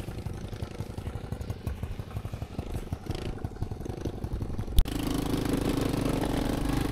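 A motorbike rides across hard, sandy beach ground toward the sea: a close, rapidly pulsing engine putter, then an abrupt switch to a steady, broad rushing roar.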